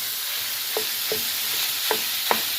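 Seasoned minced beef frying in a pan, a constant hissing sizzle with four short stirring scrapes spaced irregularly, near and steady.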